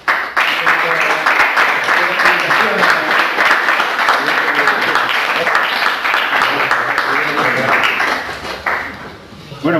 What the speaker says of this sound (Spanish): un aplauso de nuestros estudiantes.